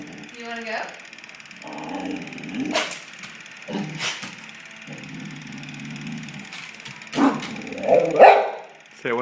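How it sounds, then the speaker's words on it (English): A dog sits close by and lets out several short barks and yelps between stretches of quieter vocal sounds, while a person talks to it. "No barking."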